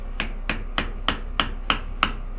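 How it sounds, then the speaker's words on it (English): Seven sharp metallic taps from a brass hammer driving a seax knife tang into an apple wood handle, evenly spaced about a third of a second apart, close and clear with no talking. "Get the brass hammer."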